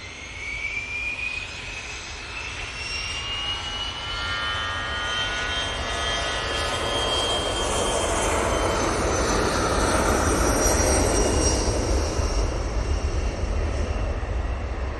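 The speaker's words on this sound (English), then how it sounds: "Easyjet now on the roll" easyJet jet airliner on its takeoff roll at Manchester Airport, its turbine whine rising in pitch with swelling roar that grows louder and nearer over the seconds, alone without voices.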